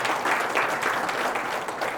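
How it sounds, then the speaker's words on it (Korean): Audience applause at a regional studies symposium, a steady wash of many hands clapping continuously and fairly loud, with no talk over it. "큰 박수로"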